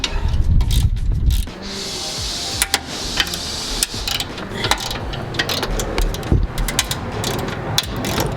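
A ratchet wrench removing frame rail bolts on a Subaru WRX, a quick series of loud, close clicking bursts with short pauses between turns, alone without speech.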